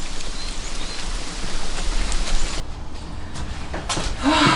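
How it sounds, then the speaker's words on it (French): Heavy rain pours down in a steady, loud, broadband hiss, with a brief knock or door sound near the end. "il est en train de pleuvoir les cordes"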